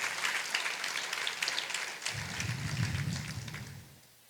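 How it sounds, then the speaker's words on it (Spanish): A church congregation breaks into loud, sustained applause, a dense crowd of clapping that carries on for several seconds and then fades, with a low murmur rising beneath it. "Si le va a dar ese aplauso fuerte, déselo al Señor para su gloria y su honra."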